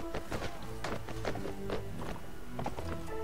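Horse hooves clattering in the Mount & Blade: Warband video game, a busy run of clip-clop thuds and taps, loud and close, with no speech.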